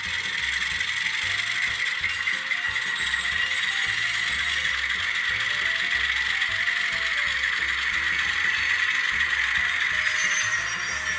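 Flange squeal from an N scale RS-3 diesel model locomotive with an ESU LokSound V5 sound decoder, a steady high metallic screech running continuously over a low mechanical rumble.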